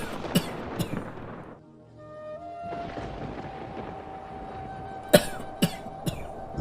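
A few short, dry coughs from an elderly man lying inside a hut sound close by, spaced irregularly, with a faint steady hum in the background between them.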